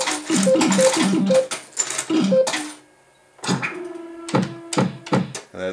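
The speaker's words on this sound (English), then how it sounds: "And the machine's accepting coins again." A Japanese pachislo fruit machine, just reset after its backup battery went flat, takes coins: bursts of clattering metallic clunks and whirring mechanism with short electronic beep tones, loud and close, a pause, then more coin drops and clicks.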